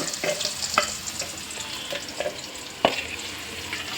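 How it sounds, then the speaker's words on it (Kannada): Onions frying in a pan for a garlic gojju, a steady sizzle under intermittent stirring clicks and scrapes, close and moderately loud, with no talking. "ಫಸ್ಟು ಈರುಳ್ಳಿ ಹಾಕ್ಕೊಂಬಿಡೋಣ"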